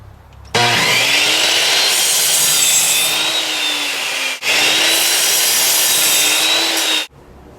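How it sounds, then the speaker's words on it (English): A miter saw fitted with a 60-tooth carbide-tipped blade cross cuts a 2x4: a loud, close, continuous whining cut running steadily, broken by one brief dip midway before it continues and stops abruptly, with no talking. "I'm going to use it to cross cut this 2x4"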